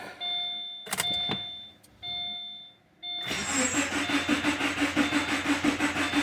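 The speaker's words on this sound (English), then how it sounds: "let's start the engine for a second and check the level." A Subaru car engine cranks after a few clicks and brief whirs, then catches into a steady rhythmic chugging run, close and fairly loud.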